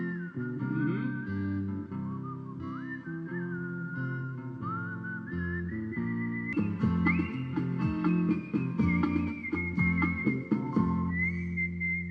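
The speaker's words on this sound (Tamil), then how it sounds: "சிவாஜி கணேசனின் பட பாடல்களை விசில் ஒளியில் இசைத்து மக்களை மகிழ்ச்சியில் ஆழ்த்தினர்" Whistled renditions of Sivaji Ganesan film songs performed live at a birthday tribute concert, a clear melodic whistle carrying the tune over steady musical accompaniment with no talking.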